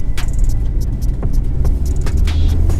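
Tuned 800hp Nissan GT-R R34 launching hard off the line in a street race, a loud sustained engine roar with throbbing low rumble and brief sharp crackles over steady droning noise.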